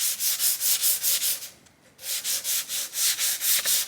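Sandpaper of 320 grit scrubs back and forth across a Hyundai car body in fast, even strokes, close and loud, pausing briefly midway before the rhythmic rasping resumes.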